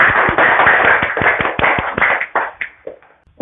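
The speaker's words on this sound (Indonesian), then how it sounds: "tepuk tangan untuk kita semua." Classroom group of children clapping hands together in a burst of sharp, fairly rhythmic claps that thin out and fade over a few seconds.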